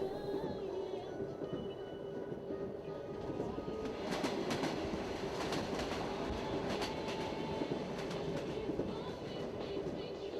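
A Trans-Siberian train rumbles past steadily with a dense roar and a run of rhythmic clicking wheel beats midway, fairly close and continuous throughout.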